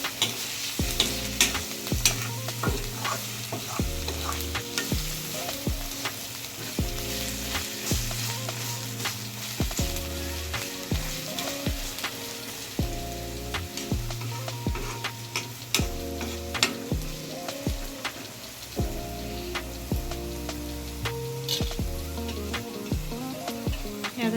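Chopped onion with salt stirred and frying in a pan while prawn masala is being made, with a steady sizzle and repeated scraping strokes under a background of tonal music.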